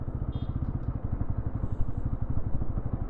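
Bajaj NS200 motorcycle rolling in fourth gear with the throttle closed, a steady low rhythmic engine thrum with faint clatter, close and continuous without talk.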